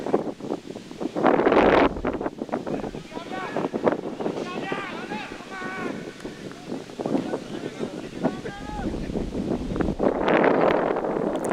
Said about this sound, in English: You can actually hear the wind in the background.